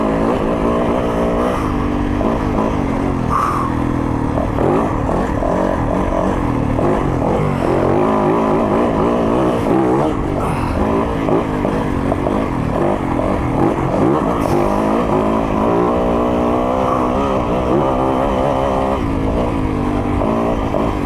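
A 2023 Yamaha YZ450FX dirt bike engine roars loud and close throughout while it is ridden, its revs rising and falling continuously with no voices over it.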